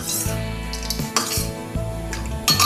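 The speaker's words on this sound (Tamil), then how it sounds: "இதை வந்து கலக்கி வச்சிடலாம் நல்லா கட்டி இல்லாமல்" A spoon scrapes and clinks against a pan while tender coconut halwa mixture is stirred, several rhythmic strokes close and loud over a steady cooking hum, no voices.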